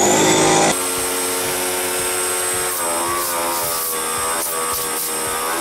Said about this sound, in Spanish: Para limpiarlo simplemente podemos utilizar un compresor de aire y una aspiradora.